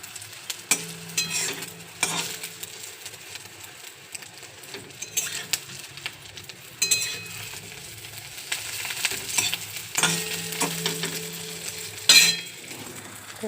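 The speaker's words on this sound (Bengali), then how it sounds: "তো এবার আমি ডিমটা ভাজবো। দেখতেই পাচ্ছ ডিম ভাজছি।" An egg frying in a pan gives a soft sizzle, joined by intermittent scraping and clinks of a utensil against the pan at close range.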